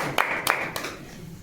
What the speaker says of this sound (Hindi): ताली हो जाए इनके जोर से